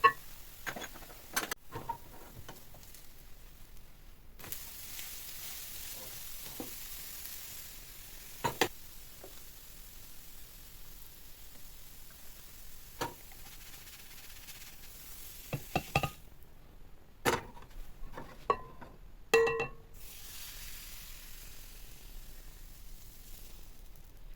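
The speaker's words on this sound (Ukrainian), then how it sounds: "прикручу і по пів хвилинки будемо смажити" A quiet, faint sizzle of poppy seed pancake batter frying in a pan, broken by occasional clicks and scraping taps, with no voices.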